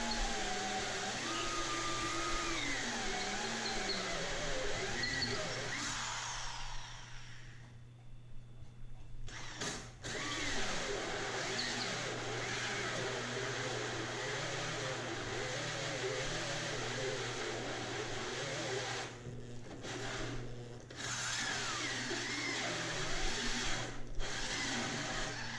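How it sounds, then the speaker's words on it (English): A 6-inch hole saw bores through 3/4 inch plywood, a loud sustained grinding whine that briefly drops off before resuming at full steadiness, close by, with a person speaking over it. "there's a lot of torque on that 6-inch hole saw going through a 3/4 inch piece of"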